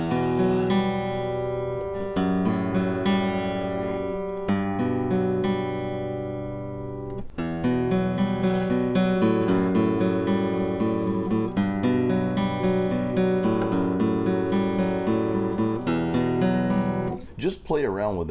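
Ringing acoustic guitar chords are strummed one after another, each left to sustain before the next, played alone and up close.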